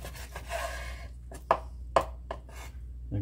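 A knife cuts food into half-inch-thick slices near an outdoor park grill, giving a few close, irregular chopping knocks against a board over a low background hum, with no speech.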